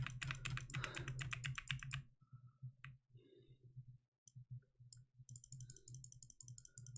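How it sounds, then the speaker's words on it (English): Rapid clicking in fast repeated bursts, dense at first, then sparser with short gaps before picking up again, close and crisp over a low hum. "I'm spamming left click and the arrow."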